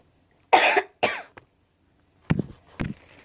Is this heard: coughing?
yes